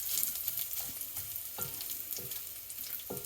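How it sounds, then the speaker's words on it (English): Green chilies frying in hot oil for South Indian gotsu, giving a continuous sizzling hiss with occasional scraping stir strokes, fairly quiet and without talk. "we need to fry the green chilies really nicely"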